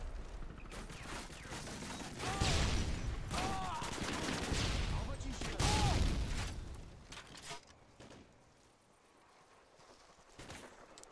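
Gunfire in the 2009 game Modern Warfare 2 multiplayer, with bursts of rapid shots and booms in the first half that fade toward quieter moments near the end, partly under a talking voice.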